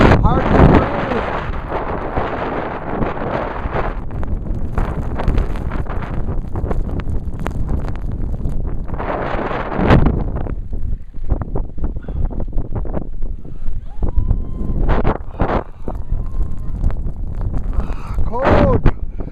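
Strong blizzard wind at Baker Lake, Nunavut roars and buffets the microphone in loud, continuous gusts, with a person speaking briefly at moments.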